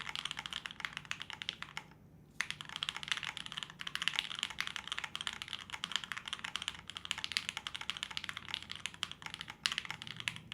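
Fast, steady typing on an FLX Virgo mechanical keyboard, a dense run of crisp, clean keystrokes close to the mic with one brief pause near the start and no talking.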